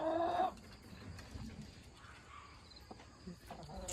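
Backyard chickens give a short, loud cluck close by, then soft scuffling and faint pecking taps follow as the birds crowd around someone.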